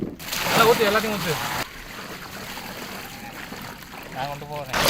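Liquid pours in a short splashing stream near the start, then trickles more faintly under people talking.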